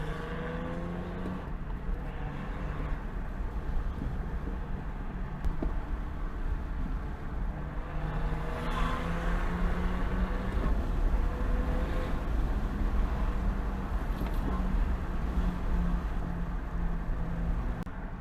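A BMW 435i xDrive driven on back roads with the windows down, giving a constant low engine drone and road rumble, with wind noise and a few shifts in engine tone over a long stretch and no talking.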